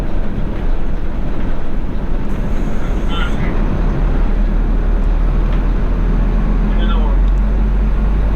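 Cobus 2700 airport bus crossing a taxiway on an airfield, a steady loud low engine and road rumble running throughout, with someone talking over it.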